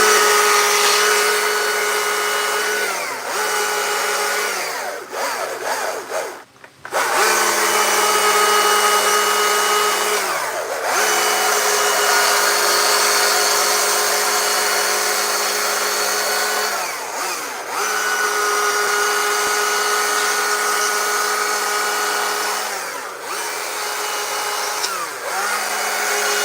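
A chainsaw carves a wooden moose. The engine drones loud and close for a long stretch, and its pitch dips briefly and revs back up again and again as the blade bites into the wood, with a short pause partway through.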